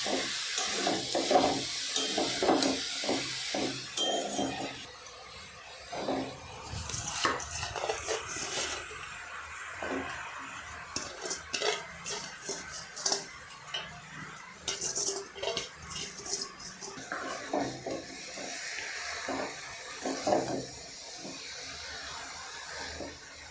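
A spicy cabbage filling for pitha is stirred in a pan, heard as repeated metal scraping and clinking of a spatula against the pan under a soft steamy hiss, close and moderately quiet.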